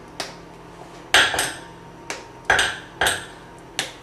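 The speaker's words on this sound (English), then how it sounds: "Take the chocolate and break it into smaller pieces." A bar of chocolate snapped into smaller pieces by hand, giving six sharp cracks with a faint ringing edge, spaced irregularly and close, with no talking.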